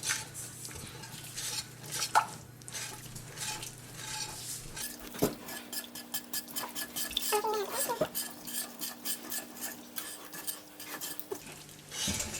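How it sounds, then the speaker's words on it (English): Milk is whisked in a pot for a macaroni pie: quick, repeated metallic scraping and clinking strokes up close, with a faint sizzle and a steady hum in the background. "now you can start whisking it because it'll start getting lumpy"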